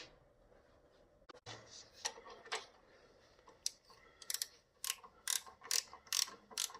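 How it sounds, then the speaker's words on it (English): A ratchet wrench turns a 9/16 bolt in a quiet space, giving sparse clicks at first, then quick bursts of sharp ratcheting clicks that grow denser and louder toward the end. "I think I'll get a ratchet."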